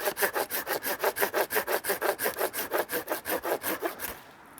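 Hand saw cutting a dead branch while trimming an evergreen tree in a garden, a steady rhythm of about twenty quick rasping back-and-forth strokes, close and clear, stopping at the end.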